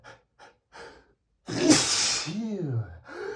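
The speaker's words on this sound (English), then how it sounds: "I just have to sneeze." A man lets out a loud, forceful sneeze in the middle of a desperate sneezing fit, preceded by a few short breathy gasps and followed by a groaning, pitch-sliding exhale and a brief vocal sound.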